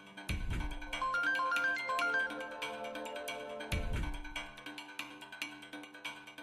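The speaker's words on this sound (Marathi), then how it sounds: "अरे घ्या की फोन." A phone ringtone plays a repeating melodic tune, loud and close, with no one speaking over it, in a domestic scene from a Marathi TV serial.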